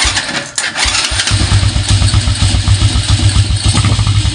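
Motorcycle engine cranked via a newly wired push-start switch on a Domino Honeywell switch housing, catching after a short starter whir and settling into a loud, close, rhythmic idle with no voices.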